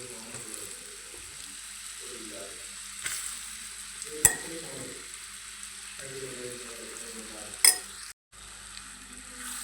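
Ground curry leaf paste sizzling in a pan for a pickle while being stirred, soft scraping strokes over a steady fry, with two sharp utensil knocks against the pan and a brief cut near the end.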